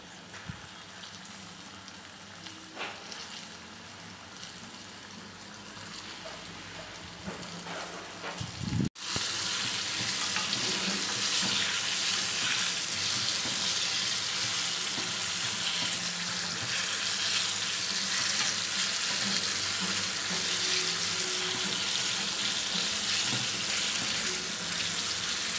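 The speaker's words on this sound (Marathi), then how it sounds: "जे पीस आहे ते आपण आता कढईमध्ये छान तळून घ्यायचे आहे" Chicken popcorn pieces deep-fry in hot oil in a kadai. After a soft lead-in, a loud, steady, close sizzle and crackle bursts in suddenly and runs on without a break.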